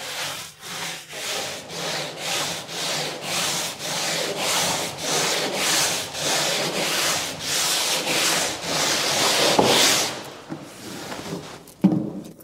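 A medium-grit abrasive sponge rubs lightly over a painted wood cabinet in steady back-and-forth strokes, about a dozen close, even passes, followed by a couple of brief knocks near the end.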